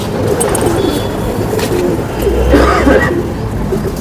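Soft, low cooing of a Lal Pari pigeon repeats among rustling background noise, fairly close, with no one talking.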